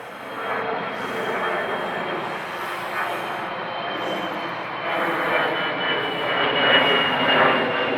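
An airliner on a Manchester Airport runway roars steadily with jet engine noise that swells toward the end, heard from a distance with no one speaking.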